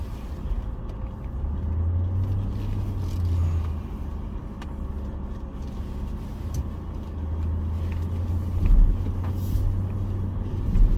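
A car driving along a wooded road: a steady low engine and tire rumble from inside the vehicle, with a faint hum rising and falling and occasional light knocks, no voices.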